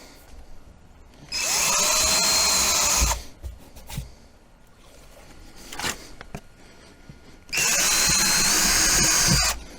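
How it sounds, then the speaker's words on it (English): A power drill whines loudly in two long bursts drilling holes for a fender flare on a Can-Am Defender, separated by quieter clicks, handling and brief rustling in between. "the back end of it here is where we need to drill."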